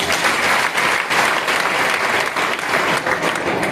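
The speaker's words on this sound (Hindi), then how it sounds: "इनके लिए एक बार जोरदार ताली हो जाए।" Loud, dense applause from an audience fills the whole stretch, an even, sustained roar of many hands clapping together with no talk over it.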